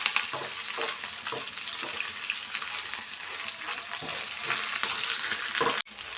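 Curry leaves, ginger and coconut pieces frying in hot oil for khara pongal, a dense continuous crackling sizzle, close and fairly loud, ending with a brief sharp knock.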